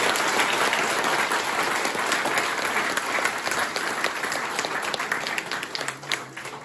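An audience at a Hindi shayari poetry recital breaks into loud, continuous applause, with dense clapping that carries on for several seconds.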